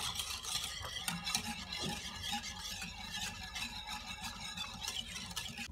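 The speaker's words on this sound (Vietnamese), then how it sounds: "Rồi mình đổ vô khuấy lên cho nó tan đều ra nha các bạn" A spoon stirs a yogurt and cheese mixture so it dissolves evenly, giving a steady, close scraping and swishing that runs continuously and moderately loud with no talk.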